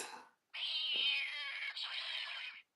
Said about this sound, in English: The kitties are attacking.